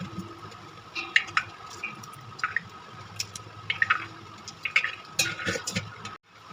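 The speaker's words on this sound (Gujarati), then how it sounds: "પછી આપણે ધોઈ નાખીએ અને પાણીથી સાફ કરી નાખીએ." Shelled green peas being rinsed and washed with water by hand, soft drips and squishy splashes at close range, the sound cutting off near the end, with no voices.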